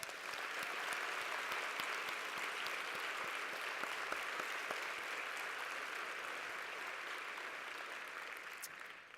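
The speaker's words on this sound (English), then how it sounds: "So I'd just like to give her a round of applause." Steady, fairly faint applause from an audience honoring Gloria Steinem, a continuous wash of clapping that fades slightly toward the end.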